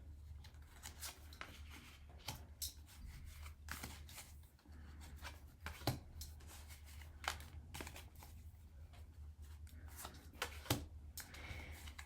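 Tarot cards being shuffled by hand in a quiet room, faint papery riffles and taps recurring in irregular bursts over a low steady hum, with no talking.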